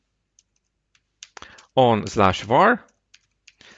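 A command is typed on a computer keyboard into a Linux terminal: a few sparse, light key clicks at first, then quick clusters of keystrokes in the brief gaps around someone speaking.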